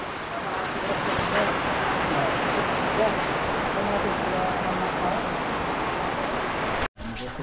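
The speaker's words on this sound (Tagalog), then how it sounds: "bumuhos sa malakas na ulan" Heavy rain pours down outside a house, a loud, dense, steady hiss of falling water with a brief cut near the end.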